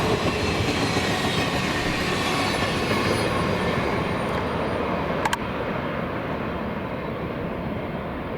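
A loud, continuous rumbling roar of Union Pacific Big Boy steam locomotive 4014 climbing a grade nearby in Arizona, steady throughout with a brief metallic clank near the end.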